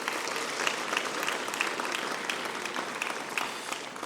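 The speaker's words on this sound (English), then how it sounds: "Let's give them both a round of applause." Conference audience applauding two speakers at a European universities conference, a moderately faint, continuous crowd of clapping heard from a distance with no talk over it.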